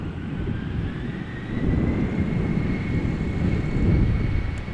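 A Boeing 747 airliner takes off from the Polderbaan runway at Schiphol, heard as a steady low engine roar that swells slightly from a distance, with a faint whine above it and nobody speaking.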